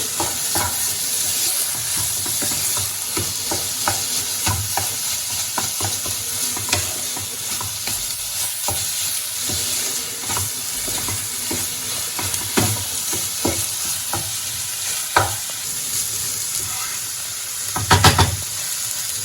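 Egg burji mixture with pepper powder being stirred and fried in a pan, a steady close sizzle broken by scraping spatula strokes and a louder burst of frying near the end.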